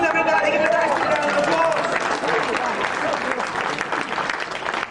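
A crowd breaks into a lively round of applause for a performer, loud at first and easing slightly, with cheering voices and chatter mixed into the clapping.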